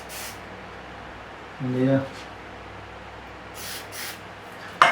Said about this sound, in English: get some switch cleaner, we're going to spray it in each of the pots.